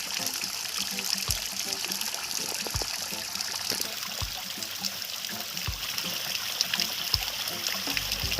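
Spring water flows steadily on a hillside farm, a continuous close trickle and gurgle with occasional soft splashes and knocks, and no voices.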